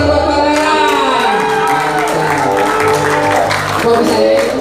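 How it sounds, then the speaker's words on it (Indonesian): Audience applause for Pangeran at a band show during the Batik Nation Ride 2022 at Plaza Semanggi, steady clapping mixed with loud band music and voices throughout. "Tepuk tangan buat Pangeran."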